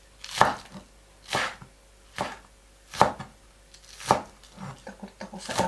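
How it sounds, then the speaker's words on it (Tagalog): A sharp knife chops spring onion on a board, six crisp evenly spaced strikes about a second apart, close and clear against near silence, the last few coming quicker. "Hiwa tayo ng spring onion."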